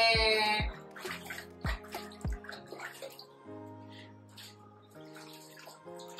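Water poured over a pet dog during a home bath, splashing and running into a tub in short bursts, with no talk.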